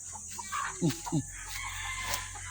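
Hens that have been brooding clucking as they are fed, with a couple of short, distinct clucks rising over a steady background hum; the birds sound fairly close.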